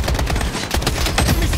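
Rapid automatic gunfire from a battle royale video game rattles in quick bursts of close, loud shots, with a short pause midway before the firing resumes.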